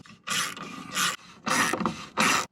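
Ratchet tightens nylock nuts on a carbon bumper bracket of a Ford, four bursts of rapid clicking separated by short pauses, close and alone.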